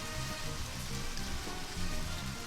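Steady rain falling in the video game Deadly Premonition, an even hiss of drops on surfaces continuing without a break at low level.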